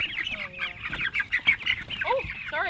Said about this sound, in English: This is our special little chicken.